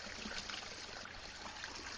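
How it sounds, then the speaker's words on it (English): Small waterfalls at Furnace Creek pour beside a pond, giving a steady, close, broadband rushing and trickling wash with no talk. "Oops, there it is. Little waterfalls."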